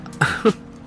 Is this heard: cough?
yes